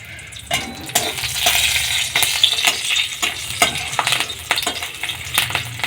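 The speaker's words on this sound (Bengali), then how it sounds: "দেখো আমি কড়াইতে তেল দিছি এবারে দিলাম কাঁচা লঙ্কা" Green chillies fry in hot oil in a wok, giving a loud continuous sizzle with repeated stirring scrapes and clatters close up.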